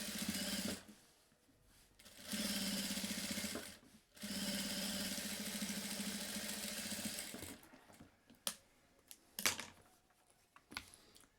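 Sewing machine stitching a seam on a crossbody bag lining, running in two long steady bursts of close, loud whirring separated by brief pauses, followed by scattered short clicks and taps as the fabric is adjusted.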